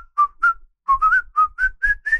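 Someone whistles a short melodic tune up close: clear, pure notes in two phrases with a brief pause between them.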